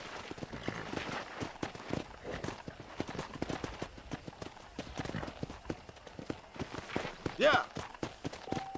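Horse hooves clip-clop steadily through a game ranch in Red Dead Redemption, a brisk walking rhythm of repeated hoof strikes, with in-game dialogue talking over them.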